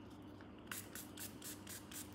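Short repeated bursts of makeup setting spray hiss close by, about five quick pumps in a row against a steady low room hum, with no talking.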